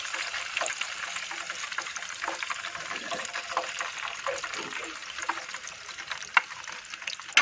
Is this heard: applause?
no